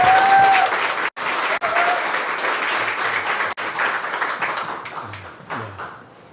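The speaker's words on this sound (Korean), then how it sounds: "더 성령 충만하게 경례의 박수 한번 주시겠습니다" A church gathering on a committee meeting breaks into loud, sustained applause welcoming a professor to the stage, a thick and even roar of clapping that fades slightly near the end.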